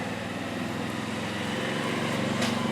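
A lawn mower's small engine, fitted with a small nitrous shot, runs steadily with a buzzy, continuous drone heard at moderate distance.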